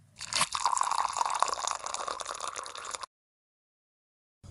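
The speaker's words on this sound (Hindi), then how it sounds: "उसने लकड़ी पर पानी डाला।" A bucket of river water is poured onto a wooden stick planted in the ground, making a short, close splashing gush that stops abruptly, followed by silence.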